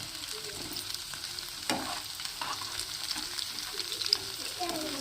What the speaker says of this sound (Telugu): చికెన్ ముక్కలు వేగుతున్నాయి చికెన్ ఫ్రైడ్ రైస్కి